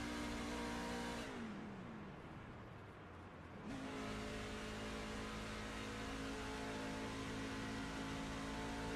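A NASCAR-style race truck engine in a racing video game at Las Vegas Motor Speedway drones steadily, briefly drops in pitch as the throttle is released, then climbs back to a constant high whine; no voices.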